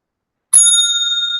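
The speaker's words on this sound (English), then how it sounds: "Okay, we can try on the bell, Dr. Chong." A hand bell rung once as a time signal, a single bright ring that starts sharply and sustains clearly with a slowly fading ringing tone.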